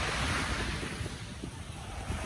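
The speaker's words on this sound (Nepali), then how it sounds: "हावा चाहिँ सरर चिसो हावा लाग्छ" Cold wind rushes across the microphone at a beach, a continuous blustery roar mixed with surf, with low buffeting gusts throughout.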